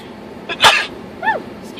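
A person sneezes once sharply up close, with a short vocal sound following a moment later.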